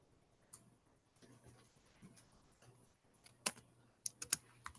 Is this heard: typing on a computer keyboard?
yes